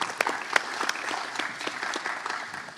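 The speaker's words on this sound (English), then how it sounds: "Let's give a round of applause for Mayor Landrieu." Applause from an audience at a community policing event on homicides and gun violence, with a steady patter of clapping that carries through the whole stretch at moderate loudness and has a few sharper individual claps standing out.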